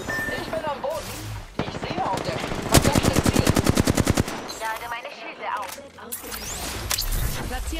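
Video game gunfire in a shooter match: a loud rapid burst of automatic fire in a steady rattling rhythm, with other shots and game sound effects around it and a voice talking before and after.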